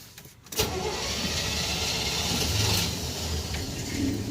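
A flooded 350 V8 in a 1978 Chevy C10 fitted with an Edelbrock intake cranks and catches, then runs with a rough, loud, uneven rumble close by, with no talk.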